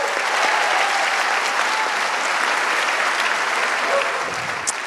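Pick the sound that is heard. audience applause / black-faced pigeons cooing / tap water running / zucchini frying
audience applause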